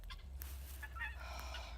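Chickens cluck softly in short bursts near a homestead pen, faint and close with little else around them.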